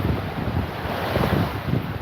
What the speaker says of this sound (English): Certainly lightens your mood a little bit listening to that sea.